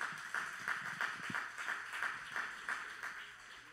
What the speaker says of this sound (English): Somebody just clap.